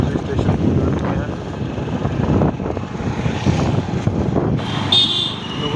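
Tractor passing on a village road near a service station on the way toward Chandigarh, a continuous loud engine rumble over steady road and traffic noise, with a brief horn-like tone near the end.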